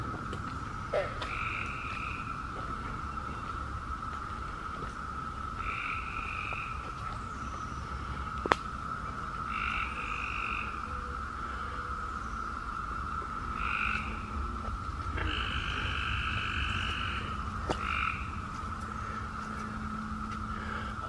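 Frogs croak on a warm, muggy morning at Mitchell Hill Lake, repeated calls scattered over a steady background hum, moderately near.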